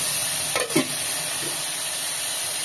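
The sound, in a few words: frying garlic, mustard seeds and tomato in hot oil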